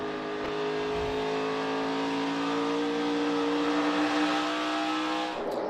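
A NASCAR Xfinity Series race car engine heard from the in-car camera at Phoenix Raceway, a loud, steady high-pitched drone holding near-constant revs with a brief shift at the end.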